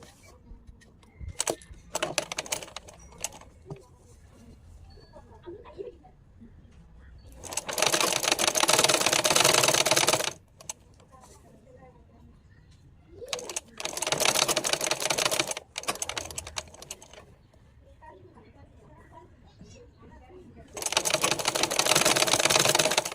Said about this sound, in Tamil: அழகாக மடக்கி தைக்க போகிறோம் வளைவாக.